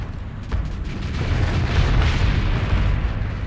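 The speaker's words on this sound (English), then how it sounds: "You're really good at catching each other in your own explosions" Deep, rumbling booms and bursts roll continuously, swelling louder midway, like a barrage of explosions in the space game Starsector, with no talking.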